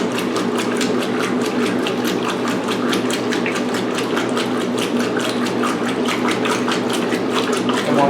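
A 1996 Maytag Dependable Care Plus washing machine fills with hot water, a steady close rushing flow with a faint rapid mechanical ticking running evenly throughout.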